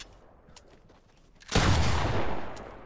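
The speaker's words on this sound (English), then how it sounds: "Allow the freaking shotgun, when you first switch to it, to fire" A shotgun fires in a video game: after a quiet stretch comes one loud, broad blast that rings out and slowly fades.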